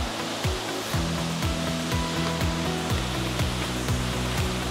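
Begaho Waterfall rushes with a constant, dense roar of falling water, close and loud throughout, with a faint regular low pulsing beneath it.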